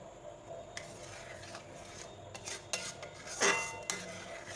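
Hot milk is stirred in a pot while cooking palm kheer, a quiet series of spoon scrapes and light knocks against the pot, with one louder scrape near the end and no talking.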